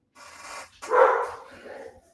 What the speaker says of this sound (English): we got some dogs over here, but that's okay